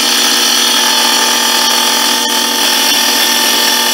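A wood lathe fitted with a duplicator cuts a spinning wood blank, giving a loud, continuous, harsh whine with a brief scraping catch partway through, close up and without speech.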